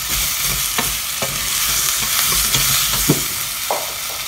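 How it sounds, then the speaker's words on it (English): Parsnip and apple sauté in a pan with a loud, continuous sizzle, punctuated by repeated scrapes and clicks of a utensil stirring the pieces at an uneven rhythm. "So you just want to saute this off for a couple of minutes."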